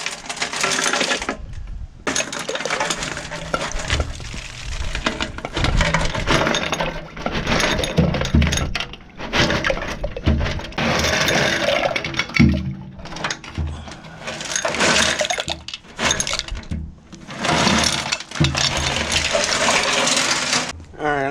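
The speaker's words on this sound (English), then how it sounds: "You can still hear the rocks." Loose rocks rattling and clinking inside the metal gas tank of a 1966 Austin Healey as it is shaken, in loud bursts of clattering separated by brief pauses.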